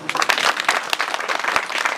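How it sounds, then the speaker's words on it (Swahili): Dense, lively applause from an audience at a Kenyan primary school gathering, with many hands clapping steadily and close for the full two seconds. "Makofi yao."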